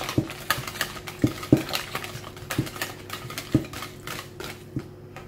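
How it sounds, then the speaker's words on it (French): A whisk strikes and scrapes through fromage blanc in a bowl, close and fairly quiet, with a steady rhythm of sharp metallic taps against the bowl. "Nous allons déjà le fouetter un tout petit peu"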